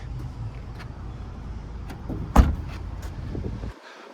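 A single solid thump at the rear of a 2017 Chevrolet Cruze LT 1.4T sedan as the trunk lid is shut, a sharp near impact rising above steady outdoor ambience, followed by a quieter lull.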